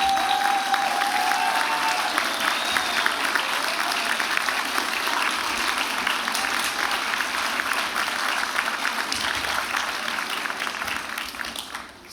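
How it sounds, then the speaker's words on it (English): A graduation convocation audience gives a long round of applause, dense sustained clapping from a large crowd filling the hall and tapering off near the end. "maybe you could give a huge round of applause to your family and friends and faculty."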